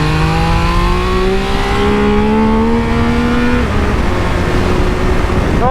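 A Triumph Speed Triple RX motorcycle pulls hard on a race track, its engine note climbing steadily in pitch through the mid-range before a sharp gear change, loud and close with no talking.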